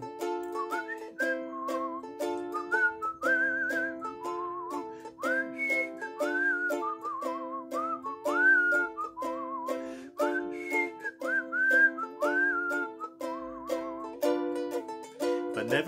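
A person whistles a lilting, melodic tune alone, clear and close, the phrases rising and falling with little slides between notes for about sixteen seconds over a soft backing.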